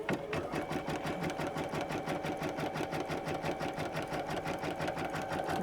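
Embroidery machine stitching across fabric for crazy quilting, a steady, loud, rapid needle rhythm running continuously and close by with a constant motor hum underneath.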